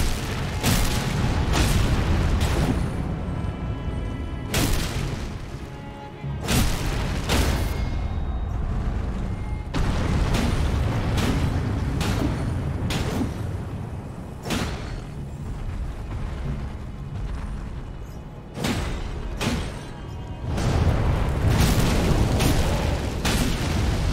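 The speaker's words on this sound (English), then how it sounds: "It's fire breath. It's not fire. It's not shit fire." Heavy, roaring bursts from a dragon's fire breath attack in Elden Ring, with repeated deep whooshing blasts and booms separated by brief gaps, loud and close, no voices.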